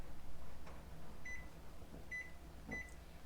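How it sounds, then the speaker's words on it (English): A kitchen timer in a home kitchen, set while a cream cheese danish bakes in the oven, gives three short, evenly spaced electronic beeps, faint over a steady background hum. "I'll set my kitchen timer."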